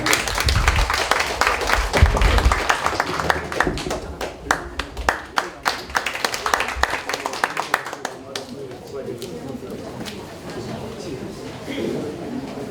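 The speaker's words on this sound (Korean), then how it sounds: "두 분께 힘찬 박수 부탁드리겠습니다" A crowd claps steadily with a steady rumble underneath in a large auditorium at a founding ceremony, and the clapping thins out toward the end.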